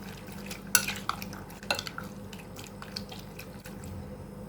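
Spices and white pepper stirred together in a bowl for a chicken tikka pizza, giving soft scraping and light clinks of utensil on bowl, with two sharper knocks near the start, quiet and close with no talking.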